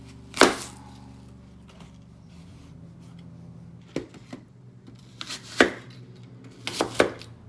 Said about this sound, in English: I could certainly use the crinkle cutter if I wanted to.